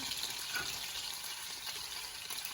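Chicken broth poured from a container into a slow cooker holding diced onion: a soft, steady liquid pour, fairly quiet and continuous over a couple of seconds.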